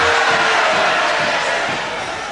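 A World of Sport wrestling crowd roars and shouts at a wrestler, a loud continuous hall din with a voice talking over it, fading slightly at the end.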